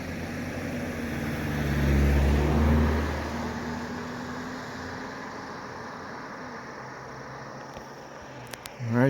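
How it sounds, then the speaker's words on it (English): Cars cross an old bridge in central Vermont near White River Junction, giving a low rumbling pass that swells and fades early, then a steady broad road hiss until a few clicks at the end. "As you can see and probably hear, the cars still use this bridge"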